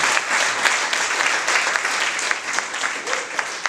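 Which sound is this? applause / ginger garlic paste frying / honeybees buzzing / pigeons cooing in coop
applause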